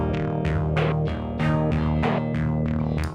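Boss SY-1 guitar synth playing a variation 9 sequence: a steady loop of repeated plucky synth notes with sharp, bright attacks over a bass line and drum pattern, close and consistently loud.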